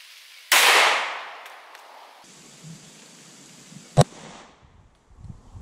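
A 9mm Underwood Extreme Defender hollow point round is fired: one loud, close report with a fading tail, then quiet before a single sharp crack a few seconds later.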